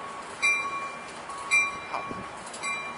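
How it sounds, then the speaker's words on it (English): Northbound Amtrak Pacific Surfliner, cab car 6905, idling at Oceanside Transit Center before departure, a distant low rail hum with a few soft repeated tonal chimes rising above it, fairly faint and without voices. "northbound surf liner about to roll out of Oceanside"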